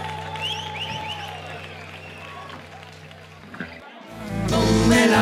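A concert audience at a show breaks into applause after an earlier stretch of voice, the clapping swelling loudly near the end.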